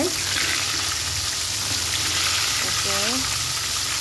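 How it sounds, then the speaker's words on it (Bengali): Chicken pieces deep-frying in hot oil give a steady, dense sizzle throughout, with a brief voice cutting in near the end. "এই যে আমার চিকেন ফ্রাই হচ্ছে,"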